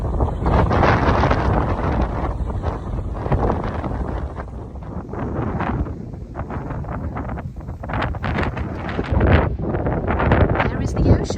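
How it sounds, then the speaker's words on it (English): Strong wind on the Cornwall cliffs above the ocean near Boscastle batters the microphone with a continuous, loud roar and rumble, surging in gusts throughout. "it's very, very windy"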